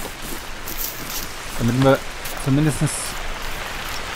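Steady rain patters across the ground in the hunting game Hunter: Call of the Wild, a continuous even hiss that carries through the whole stretch while someone speaks German briefly in the middle.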